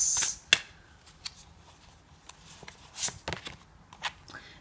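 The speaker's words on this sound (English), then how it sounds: "let's give the cards a good shuffle" Tarot cards being shuffled by hand at close range, a quick crisp riffle followed by scattered soft slaps and taps of the deck in a quiet room, with no talk.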